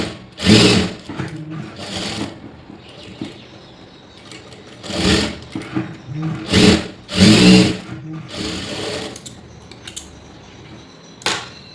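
A sewing machine stitching a blouse runs in several short bursts of rapid clattering, close and fairly loud, with quiet pauses between runs.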